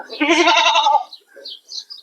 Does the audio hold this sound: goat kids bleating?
yes